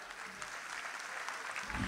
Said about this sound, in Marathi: आपण सगळ्यांनी आज या ठिकाणी टाळ्या वाजवून सगळं स्वागत करूया.